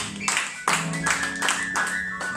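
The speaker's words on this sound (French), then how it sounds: "Oui, on acclame Jésus." A church congregation claps to acclaim Jesus during a worship service, a short burst of several hands clapping at close range in uneven rhythm, with no talk.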